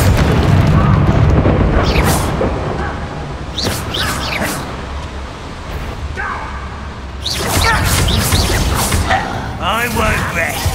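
A fiery Confringo spell explosion in the Hogwarts Legacy video game, a deep booming blast followed by further thumps and bursts, loud and close, with voices talking over the effects.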